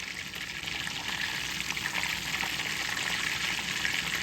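Paper-thin chicken cutlets fry in hot oil on their second side, giving a steady, close crackling sizzle that keeps up evenly with no talking over it.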